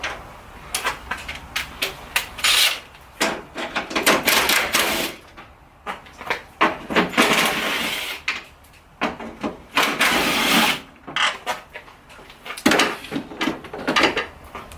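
A Subaru Outback bumper is pulled off by hand, a series of close plastic clicks, clacks and rattling bursts with brief quiet gaps, irregular and busy.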